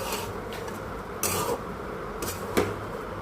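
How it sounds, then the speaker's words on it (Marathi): Washed poha (flattened rice) is stirred in a pan, giving quiet, intermittent scraping and rubbing strokes of a spoon against metal, with no one speaking. "चांगले परतवून घ्यायचे पोहे"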